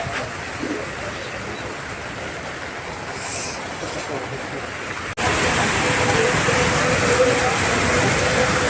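Heavy rain pours down in a steady, dense hiss that jumps abruptly louder halfway through and then keeps roaring evenly, with no voices over it.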